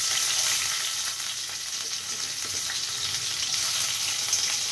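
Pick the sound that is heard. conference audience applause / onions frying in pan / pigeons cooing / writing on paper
onions frying in pan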